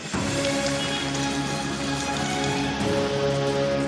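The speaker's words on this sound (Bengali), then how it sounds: "কখনো ঝমঝমিয়ে বৃষ্টি কখনো ঝলমলে রোদ" Heavy rain falls steadily in a dense, unbroken hiss of drops on surfaces, with a sustained tonal drone layered over it throughout.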